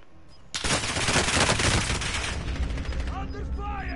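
Dense rapid gunfire from a Call of Duty: Warzone match erupts after a brief quiet and rolls on as a loud, sustained burst of overlapping shots, with a little in-game chatter near the end.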